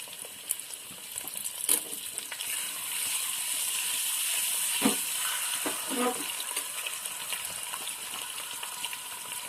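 Eggs frying in a kadai, a steady broadband sizzle with a few brief stirring knocks and scrapes running throughout, close and moderately loud.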